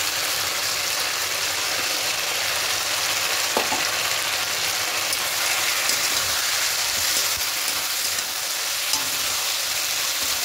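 A paste of coconut, mustard and poppy seed frying in a pan, producing a dense, continuous sizzle with faint stirring scrapes, close and even throughout.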